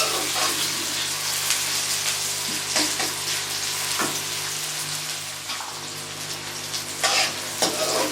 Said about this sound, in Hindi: इसको साथ साथ हिलाते रहें ताकि किसी साइड से हमारा प्याज जल ना जाए।